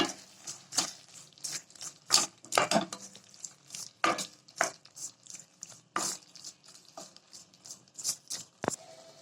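Tomatoes being sautéed with salt and curry leaves in a pan for thakkali thokku, heard as a steady run of irregular spatula scrapes and taps against the pan, fairly close and with no voice over them.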